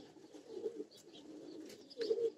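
Soft cooing calls from a partridge being hand-fed, two low, murmuring bursts near the start and end, close and fairly quiet, with no talking.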